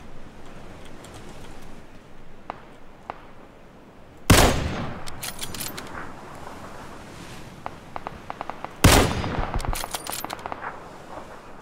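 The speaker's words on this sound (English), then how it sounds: "Shots are close." Gunfire in the video game PUBG: faint scattered shots at first, then two loud, close bursts of automatic fire several seconds apart, each trailing into rapid follow-up shots, with soft footsteps between.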